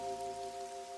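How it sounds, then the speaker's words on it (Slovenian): A summer rain shower falls steadily in a brief stretch, a soft continuous patter over sustained tonal music, with no voices. "Nenadoma je sonce posijalo skozi oblake, a poletni naliv ni prenehal."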